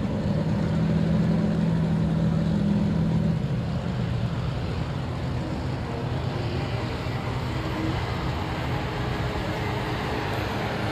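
Modified 950 kg tractor pulling tractor Crazy Horse running at extremely high revs at Edewecht, a loud sustained engine roar that holds steady, with a higher whine early on that fades.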